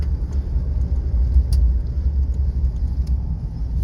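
A right-hand-drive Mitsubishi Pajero with a turbo engine cruises in fifth gear, giving a steady, loud low rumble from inside the cabin with a faint high whine above it.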